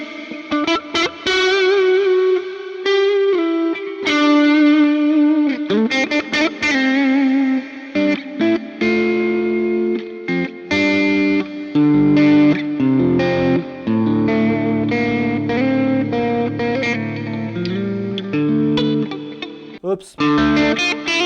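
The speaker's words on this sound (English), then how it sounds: "You can listen that the reverb is starting after." Guitar played through a Strymon Cloudburst reverb pedal with pre-delay, sustained distorted notes and chords that bloom into a delayed, washy reverb tail, loud and continuous throughout.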